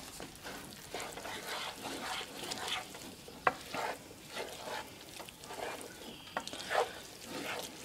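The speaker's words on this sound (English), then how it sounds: "let's start stirring this up" Eggs and potatoes are stirred in a sizzling pan, with soft scraping strokes repeating every second or so over a quiet, steady fry.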